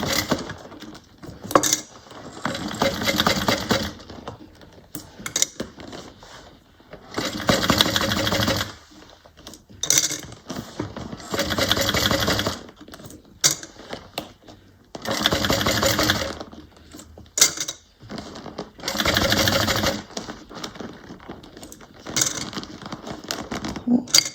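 A sewing machine top stitching a Jasmine bag runs in repeated bursts of a few seconds each, with short pauses between them, close and clear.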